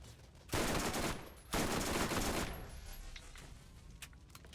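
SMG fire in Borderlands, two loud sustained bursts of rapid automatic shots, each lasting about a second, followed by a fading tail and faint game sounds.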